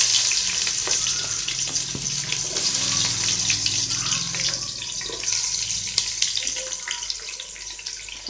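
Sliced onion hisses and crackles in hot oil along with cinnamon, clove and cardamom, a loud, steady close sizzle with a bright spitting edge throughout.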